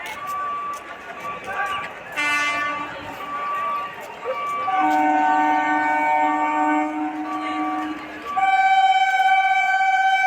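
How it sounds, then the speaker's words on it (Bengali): A train arrives at a station platform in West Bengal, sounding drawn-out, tonal horn blasts several times over a low background rumble. The horn grows louder toward the end, and a person talks through it. "এদিক থেকেও একটা ট্রেন আসছে"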